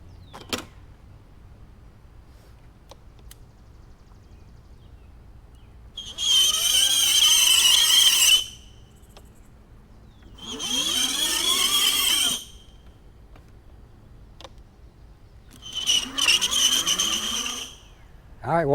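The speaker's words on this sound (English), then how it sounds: "This is my homemade version, the DIY fast electric bike, dual motors." Homemade dual-motor electric bike built for 40 mph, with geared 750 W hub motors, giving three separate high whining squeals that rise and fall as it accelerates past, quiet gaps between each run.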